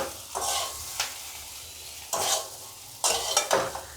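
Potato chips fry with raw garlic, onion and sesame seeds in a pan, a soft sizzle under three or four bursts of stirring and scraping, close and without talk.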